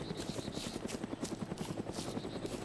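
An NPC helicopter in the Arma 2 DayZ mod flies steadily, its rotor thudding in a fast, even rhythm under a constant engine whine, alone and fairly close.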